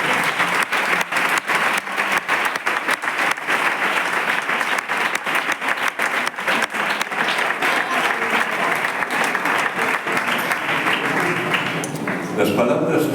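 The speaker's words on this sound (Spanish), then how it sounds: "¿Puede dar un aplauso para Jesús?" Church congregation applauding during a Spanish-language service, a loud, dense burst of many hands clapping that continues steadily for several seconds before tapering off near the end.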